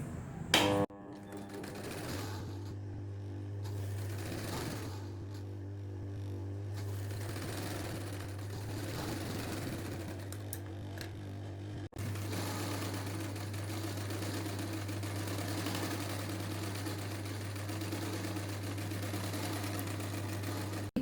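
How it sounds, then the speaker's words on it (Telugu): A sewing machine runs steadily while stitching buttonholes on a blouse, a near, continuous mechanical hum with a low drone and fast rhythmic clatter that pauses briefly midway before resuming. "ఇది కాజాలు పట్టి కుడుతున్నాను"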